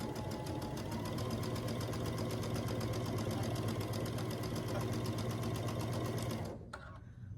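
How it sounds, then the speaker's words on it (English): A sewing machine stitching scrappy star quilt blocks runs at a steady fast whirring rhythm for several seconds, close and continuous, then stops abruptly near the end. "I'm going to sew down this line"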